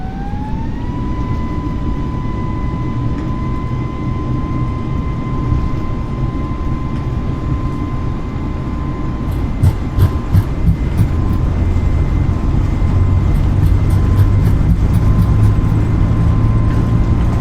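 Airbus A320neo jet engines spool to full TOGA takeoff thrust in Microsoft Flight Simulator, a loud steady roar with a rising whine that settles, then rumbling and rattling clicks as the jet accelerates down the runway.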